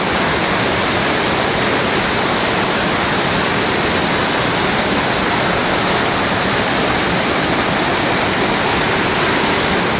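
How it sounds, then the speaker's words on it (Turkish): Oylat Waterfall pouring and splashing in a constant, loud roar of falling water that fills the whole stretch without a break. "Evet burası Oylaç Şelalesi."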